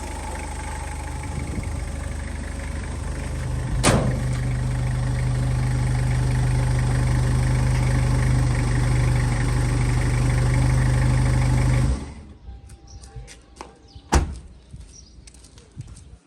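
Toyota Tiger pickup with automatic transmission idling steadily with a low, even engine hum and a couple of sharp clicks, then the engine is switched off and only faint knocks and rustles remain.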